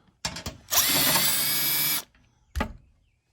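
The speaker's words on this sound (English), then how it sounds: "These are 12 millimeter sockets. Take that loose." A ratchet wrench fitted with a 12 mm socket works a bolt loose on a Honda Pioneer 1000-5 front bumper brush guard, giving a short clicking burst, a loud whirring stretch of over a second, then one brief final burst, close up with no talking.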